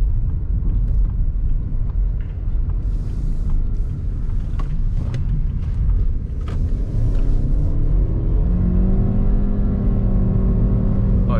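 Caoa Chery Arrizo 6 from 2020 with a CVT accelerates steadily from inside the cabin, giving a low continuous rumble. A rising engine whine then smoothly falls and climbs again as the gearbox shifts, with no voices.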